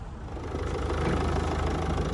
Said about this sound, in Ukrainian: двигун працює у нас дуже добре